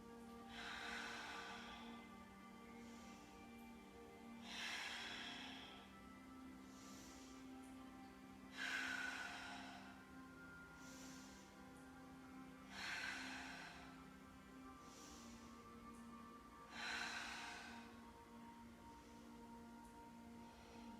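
Slow, deep breaths during a yoga flow pose, five long airy inhale-exhale swells spaced about four seconds apart, close and steady with no talking.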